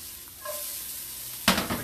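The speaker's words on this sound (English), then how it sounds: "Our oil is very hot now. We can add our onions. Nice little sizzle." Onions hit very hot oil in a pan with a sudden sharp sizzle that crackles briefly, close by, after a quiet moment.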